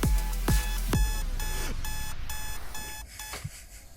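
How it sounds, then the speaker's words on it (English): A beeping alarm-clock tone inside a music track, repeated rhythmic beeps in short regular bursts over thumping kick drums and synth, up front in the mix. "I hate alarm sounds."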